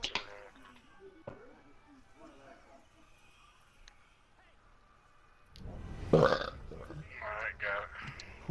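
In co-op play of Assassin's Creed, a loud, rough burp bursts out near the end. It follows a stretch of quieter chatter and small clicks, and people talk around it.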